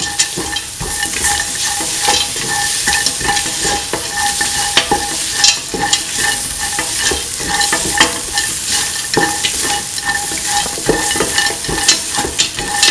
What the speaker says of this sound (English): Put in the chillies and the green chili. Mix that away.